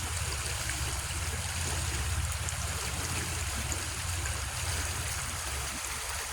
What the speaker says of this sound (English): not all the water that comes out of there should be going into a natural wildlife stream